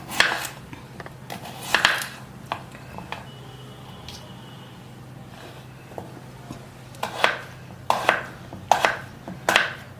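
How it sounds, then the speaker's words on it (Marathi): Unpeeled potatoes being chopped into thin slices on a board, with a series of crisp knife knocks in uneven bursts, close and clear over a faint background hum. "बारीक चिरून घ्यायचं बरं का बघा मी कशा थोडी करते"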